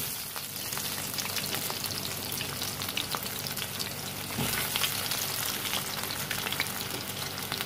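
Potatoes fry in oil in a pan, a loud, dense, continuous crackling sizzle close up, with no voices.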